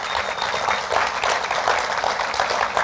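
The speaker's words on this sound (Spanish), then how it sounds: "dele un aplauso fuerte al Señor" A church congregation applauds during a Spanish-language sermon, a steady dense wash of many hands clapping that holds evenly for about three seconds with no break.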